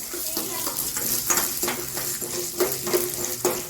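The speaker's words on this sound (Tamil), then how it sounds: "இப்போ உளுத்தம்பருப்பை வறுத்துக்கலாம்." Urad dal roasting in a pan for coriander chutney, a steady dry sizzle with repeated scraping strokes of a spoon stirring the lentils, close and moderately loud, no voices.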